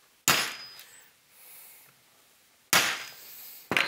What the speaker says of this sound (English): we come in with our center punch